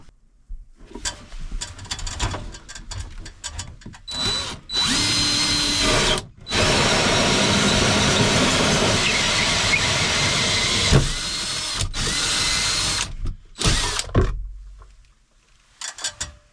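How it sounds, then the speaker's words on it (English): A power drill whirs in several long bursts, drilling holes for closet lights, loud and close, with brief pauses and the motor winding down between holes. "Let's drill some holes."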